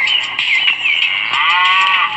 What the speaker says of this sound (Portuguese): A vaca ali mugiu ali.